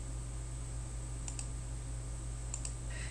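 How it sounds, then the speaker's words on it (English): Mouse clicks on a computer while running a financial report in accounting software: a few faint, sharp double clicks around the middle and near the end over a steady electrical hum, with no talking. "Click Execute Report to run the report."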